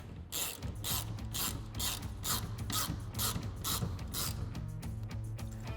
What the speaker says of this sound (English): And then we can take a 5mm Allen bit to tighten down our bolt.